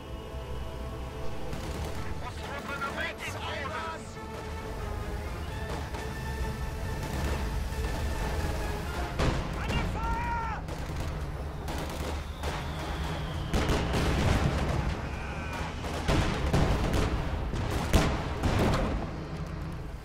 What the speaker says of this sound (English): Puma is firing at that IS-2, trying to kite it a little bit.